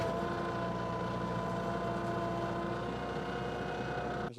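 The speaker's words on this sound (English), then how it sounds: "now to put that back on the stroke sander and run that down a little bit" A stroke sander runs down a wooden Japanese coffee table top inlaid with resin, producing a steady, even mechanical drone and hum that continues unbroken before cutting off abruptly at the end.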